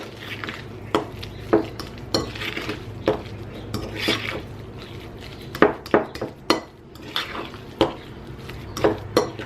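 A spoon mixes chicken buffalo ranch deviled egg filling in a bowl, with repeated sharp taps and scraping clinks against the bowl at an uneven rhythm.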